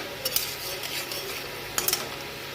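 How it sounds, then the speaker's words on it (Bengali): Black cumin seeds and dried red chillies hit hot mustard oil in a kadai, giving a steady close sizzle with a few sharp clinks and stirring scrapes, brief louder bursts near the start and end. "এবার আমি কালো জিরা আর শুকনো লঙ্কা ফোড়ন দেবো।"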